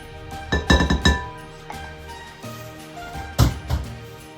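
A metal spatula scraping and clinking against a mixing bowl of sweetened condensed milk cookie dough, with a cluster of sharp clinks early on and a louder pair later, close and alone.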